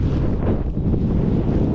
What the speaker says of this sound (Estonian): just tuli tuul